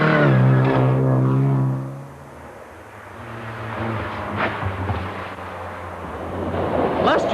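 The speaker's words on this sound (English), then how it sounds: "another distinctive sound, its smaller stablemate, the MGB" An MGB sports car engine roars past on a historic rally, loud at first then fading into the distance, followed by more engines approaching.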